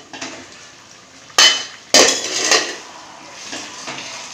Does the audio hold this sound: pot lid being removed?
yes